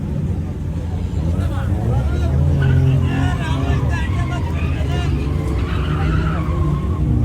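Chevrolet Corvette drifting at a car meet in Bangalore, tyres squealing loudly and continuously over a roaring engine, with crowd noise and voices in the background throughout.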